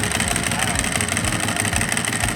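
A Ducati 1098 motorcycle engine with an open clutch cover runs nearby, a loud, rough, throbbing idle with a rattly mechanical clatter, steady through the short stretch.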